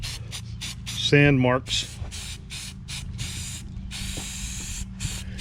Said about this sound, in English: Just spraying some primer filler here